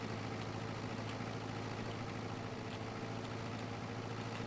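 A tractor engine idles in Farming Simulator 22, a steady low rumbling drone held at an even level close by, with no talk over it.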